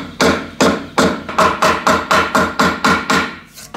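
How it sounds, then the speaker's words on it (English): A mallet delivers glancing blows to roll over a metal edge held in a vise, ten sharp, evenly spaced strikes ringing loudly and close with nothing else heard. "I want to bring the mallet across as I hit it, and that will roll the metal over better"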